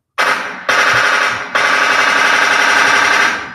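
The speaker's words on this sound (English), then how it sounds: "Gunshot, Nadia." A gunfire sound effect plays as three loud, sharp bursts, each followed by a long ringing, echoing tail that sustains until it cuts off, with no voices over it.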